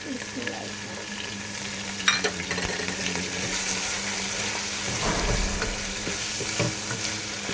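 Two medium tomatoes drop into sizzling ginger and garlic for beef aloo keema, followed by a strong, continuous frying hiss with occasional stirring scrapes and clinks close by.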